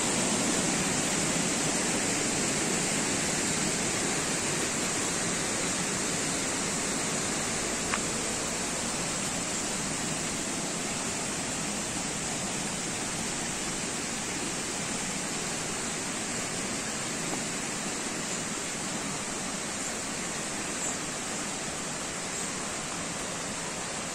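Water running down from the hill into a swimming pool at a river bathing spot in Mecatán, Nayarit, making a steady, loud, unbroken rushing roar for the whole stretch, with no voices.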